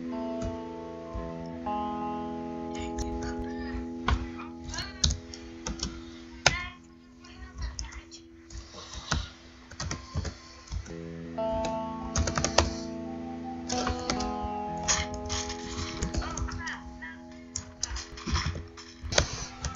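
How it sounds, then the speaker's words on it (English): Continuous clattering of keys on a computer keyboard while setting up Minecraft minigames on a Bukkit server, bursts of fast typing with brief pauses, close and fairly loud, with a faint hum underneath. "I'm typing the wrong damn thing"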